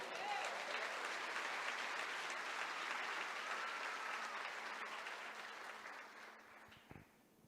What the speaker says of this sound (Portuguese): glorifica e aplauda ao Senhor